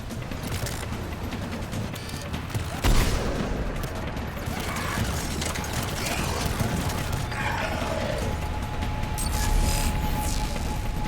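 A Mass Effect 3 firefight, with dense, continuous gunfire and bursts of shots over mechanical clatter and booms, all close and loud, while voices speak underneath.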